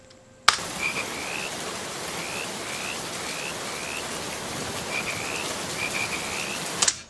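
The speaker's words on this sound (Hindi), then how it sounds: "मेंढक का साउंड देंगे तो इस जगह का एसेंस और भी ज़्यादा आएगा।" Frog croaking sound effect: frogs croak in a repeating chorus over a steady wash of rain, with sharp clicks at the start and end.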